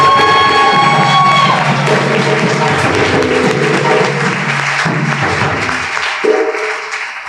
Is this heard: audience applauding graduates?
yes